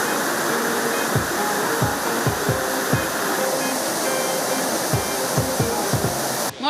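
Meduru waterfall near Madikeri in Karnataka roars steadily as a broad, close rushing of water, with low thumps and knocks breaking through at intervals and a brief disturbance at the very end.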